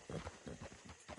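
Horse hooves clip-clopping in Red Dead Redemption 2, a quick steady rhythm of hoofbeats close by, with low background sound and no talk.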